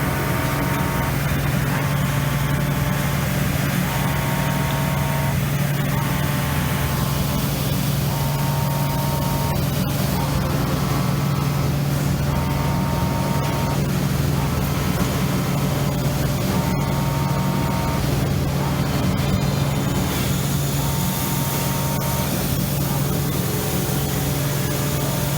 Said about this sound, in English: it's running through the cycle 5 times to ensure that the machine has grease